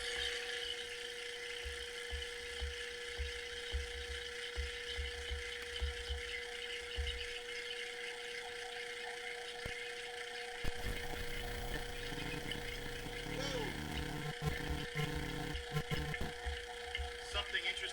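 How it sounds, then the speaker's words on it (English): A vacuum pump draws air out through a hose in a chemistry demonstration, producing a steady mechanical hum and whine that shifts partway through into rougher rattling and hissing. "this hose is connected to a vacuum pump that draws the air out"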